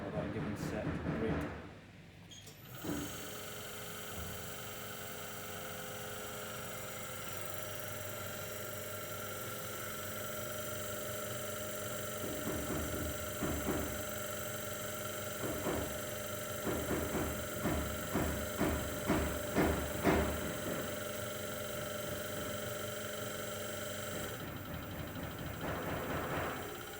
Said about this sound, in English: we just hit the green button to go, and then that will start applying the load at that given set rate